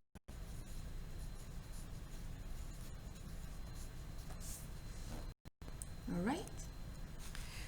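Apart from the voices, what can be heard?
marker writing on a board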